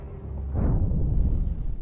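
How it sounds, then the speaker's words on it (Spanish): Shell splashes boom around a submarine hull as a sudden heavy low rumble swells in and rolls on, dull and resonant, with no voices. "El chapoteo de proyectiles retumba en el casco."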